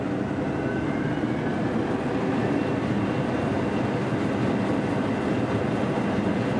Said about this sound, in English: I'm going to throttle up here and see where we're going to end up here for our default work condition